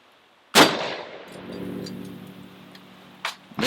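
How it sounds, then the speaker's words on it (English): One loud M44 Mosin Nagant rifle shot fires 148-grain full metal jacket rounds at an AR500 steel plate, with a sharp blast and a ringing decay, followed by faint clanks near the end. "Shooting the M44 Mosin Nagant"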